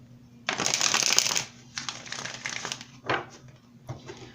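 Tarot cards being shuffled in several quick riffling bursts, crisp papery flutters close to the mic with brief pauses between.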